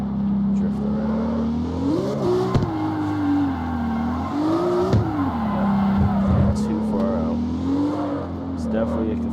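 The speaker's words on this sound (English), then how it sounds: "Let's see if I can do a second gear drift around." Virtual car in the CarX Street racing game drifting in second gear, its engine droning and rising and falling in pitch with repeated revving surges as the slide is held, fairly loud and continuous.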